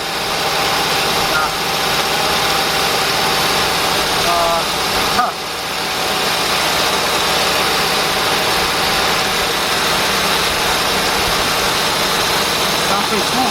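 A 2007 Jeep Commander's 4.7 engine idles steadily and loudly, a dense continuous rumble close to the microphone with a brief dip partway through and no clear rattle standing out.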